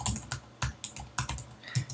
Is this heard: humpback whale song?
no